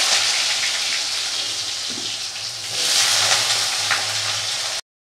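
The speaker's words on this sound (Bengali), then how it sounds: "তেলের ওপর পাঁচফোড়ন দিয়ে দিলাম, দুটো আলু কেটেছিলাম, আলুগুলো দিয়ে দিলাম।" Potato pieces fry in oil with panch phoron, producing a dense, continuous hiss of sizzling that swells louder midway and then cuts off abruptly.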